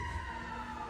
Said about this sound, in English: I hope whoever's in that ambulance is okay